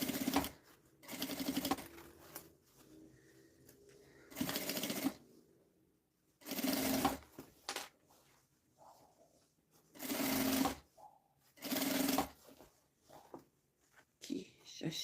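A sewing machine runs in several short bursts as it stitches fabric along the edge while sewing a fabric vanity case, with quiet pauses between the runs.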